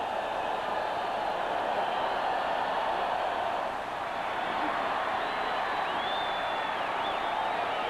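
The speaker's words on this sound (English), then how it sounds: "The crowd starts up with a wave now, trying to inspire the Chiefs" Distant roar of a football stadium crowd during a 1986 Raiders–Chiefs game at Kansas City, cheering steadily as the wave circles the stands, with a faint whistle near the end.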